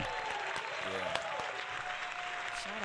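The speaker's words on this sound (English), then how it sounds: "we're going to go ahead and give her a round of applause right now" Faint, steady applause from a small group on a talk show, continuous light clapping with a speaking voice heard intermittently over it.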